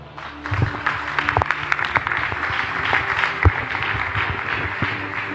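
A church congregation claps and applauds together, a dense, lively burst of hand claps in a reverberant hall with scattered louder claps, mostly without speech.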